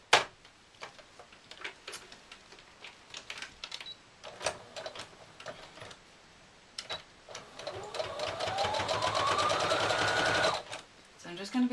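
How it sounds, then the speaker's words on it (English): A sewing machine top stitches a cushion with a long straight stitch: scattered clicks and short stitching bursts, then a sustained whirring run of rapid needle strokes that speeds up and stops abruptly. "now I'm going to top stitch the 2 pieces all the way around, well 3 sides round to be honest, using a long straight stitch"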